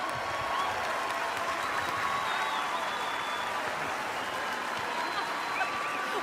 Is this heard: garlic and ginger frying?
no